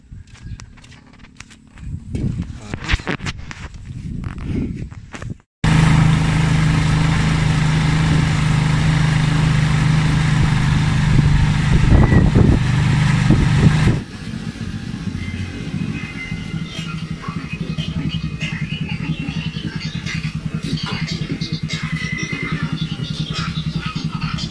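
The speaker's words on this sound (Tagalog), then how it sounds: "Oh, biyahe na ulit mga motor." A Rusi 175 motorcycle hauling twenty 45 kg sacks of palay rice runs under heavy load, its engine droning loud and steady with a low rumbling hum, after a stretch of scattered handling noises and a brief cutoff.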